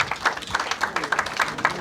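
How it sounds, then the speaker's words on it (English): Audience applause welcoming a rabbi onto the stage at a lecture on dating and marriage, a steady patter of many hands clapping at moderate level throughout with no talk over it. "let's give a round of applause for Rabbi Dovid Orlofsky."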